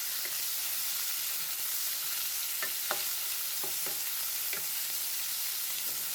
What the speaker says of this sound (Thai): เมื่อกระเทียมได้ที่แล้วก็ใส่สันคอหมูที่เราหั่นไว้ลงไปผัดได้เลยครับ